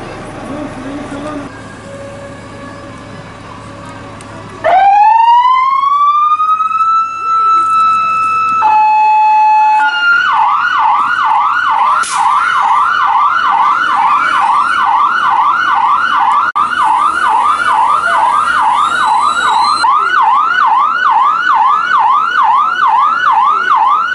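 An emergency siren during a school fire and civil defense drill starts abruptly, sweeping up then settling into a loud, rapid wailing warble that continues steadily, with faint voices underneath at first.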